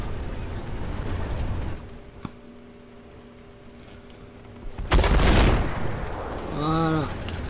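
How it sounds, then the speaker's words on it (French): Artillery fire in the tank game Armored Warfare: a loud, sharp blast with a rumbling tail arrives after quieter engine drone and ticks, followed by a rising whistling game tone. "Ah, il y a une artillerie."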